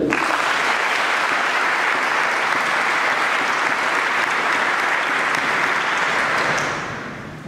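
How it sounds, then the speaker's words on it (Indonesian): Sustained, dense applause from a large audience of Indonesian civil-service trainees honouring a lecturer, steady and loud for about seven seconds before tapering off at the end. "Tepuk tangan buat Pak Yusuf"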